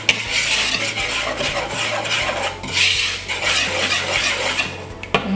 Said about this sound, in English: Then you want to give that a light whisk just to mix it all up.